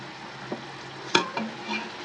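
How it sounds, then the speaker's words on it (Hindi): Goat trotters (paya) frying with spices in a pot, a steady close sizzle with a few sharp stirring scrapes and clinks of a spoon breaking through, no voices. "तो दोस्तों ये इसकी हो रही है अभी भुनाई।"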